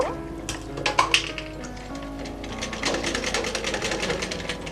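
An electric sewing machine stitches elastic onto a cloth face mask, starting with a few bumps and handling sounds, then settling into a steady rapid mechanical whirr of close, moderately loud stitching.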